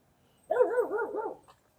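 A dog lets out a quick run of close, loud barks blending into yelping whines, lasting about a second before falling silent.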